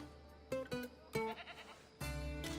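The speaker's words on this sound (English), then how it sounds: "There's another goat?" A goat bleats several times in Assassin's Creed Odyssey, short wavering cries arriving close and fairly loud, with a longer bleat near the end.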